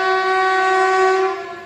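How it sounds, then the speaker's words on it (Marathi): A train that does not stop at the station sounds its horn in one loud, steady blast that holds for a moment and then eases off slightly, with no talking. "हे बघा ट्रेन येत"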